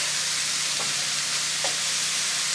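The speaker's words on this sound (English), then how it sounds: "I try to sort of put the meat up the side of the wok, and help it cook," Meat stir-frying in a wok sizzles loudly and continuously, close up, with a couple of brief scraping stirs.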